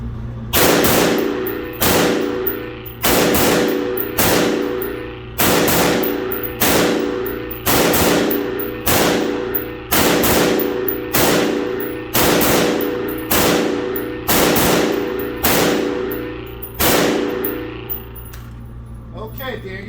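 AR pistol fired in a shooting drill, about a dozen sharp, loud gunshots at a steady roughly one-and-a-half-second rhythm, each with a short decaying echo.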